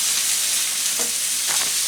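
Chicken sizzles in a hot pan as it cooks beside a boiling sauce: a steady, bright hiss that is loud and close, with a couple of brief crackly bursts and no voices.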